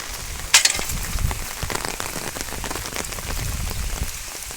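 Heavy downpour drums steadily on farmland surfaces, a dense continuous hiss with scattered louder drops and one sharp splash early on, no voices.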